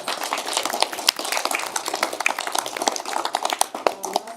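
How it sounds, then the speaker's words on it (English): An audience at a City of Big Rapids candidate forum claps in a dense, steady round of applause, crackling continuously with scattered sharper claps standing out throughout. "a round of applause for putting me"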